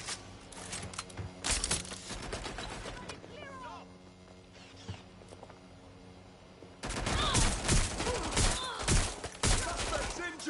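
Bursts of gunfire in the action game Watch Dogs Legion, with rapid loud volleys at the start, a quieter stretch with voices, then a heavy sustained barrage of shots mixed with shouting.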